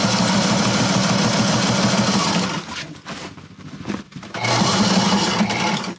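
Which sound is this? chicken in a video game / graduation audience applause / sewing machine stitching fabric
sewing machine stitching fabric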